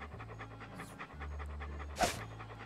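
A dog pants in the Monkey Island 2 video game, a steady run of quick, close breaths over a low background drone, broken by one brief louder burst near the end.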